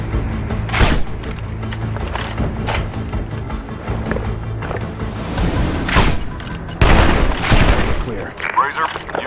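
Rifle gunfire in the Sniper Ghost Warrior 2 video game: several sharp, loud shots spaced a second or two apart, with booming tails and a cluster near the end, under faint game background.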